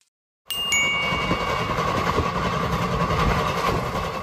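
From inside a non-AC sleeper-class coach of Indian Railways nearing Burdwan Junction, the train gives a loud, continuous rumble and hum that starts suddenly after a moment of silence and carries on steadily.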